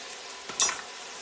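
Butternut squash sizzling in a pan over medium-high heat, with a steady soft frying hiss and one brief scrape-and-clink of a utensil stirring the pieces, close by.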